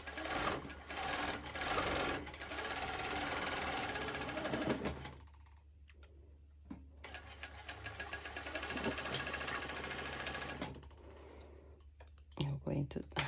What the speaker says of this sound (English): So whenever I'm actually doing now my cover stitch, I am slightly pulling the binding, really not too much.